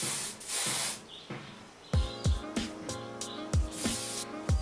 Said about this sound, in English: So I'll spray a little bit more hairspray